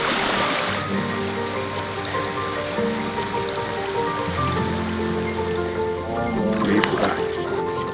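River water flowing steadily along a riverbank sampling route, a continuous close rushing wash that fills the whole clip with a faint voice briefly underneath.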